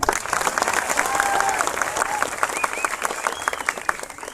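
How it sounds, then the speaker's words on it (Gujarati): An audience applauds in thanks for Anantbhai at a gathering, a steady wash of many hands clapping that holds for a few seconds, with some voices mixed into the crowd noise. "અનંતભાઈનો તાળીઓથી આભાર માનીએ"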